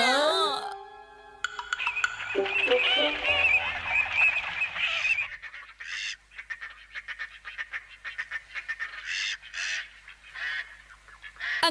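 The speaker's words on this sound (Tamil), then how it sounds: "அங்க பாத்தீங்களா, சில பறவைங்க இருக்கு." Geese or ducks honk and squawk in an animated cartoon scene, loud and close at first, then continuing in repeated bursts of cackling calls, with voices mixed in.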